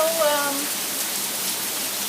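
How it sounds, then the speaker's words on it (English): A sudden heavy downpour hisses steadily close by, dense rain noise filling the two seconds while a voice briefly sounds at the start. "right now you're kind of witnessing a freak all of a sudden downpour."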